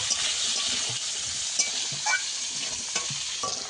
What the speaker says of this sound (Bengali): কাঁচা লঙ্কা আর আলু একসঙ্গে ভেজে নেব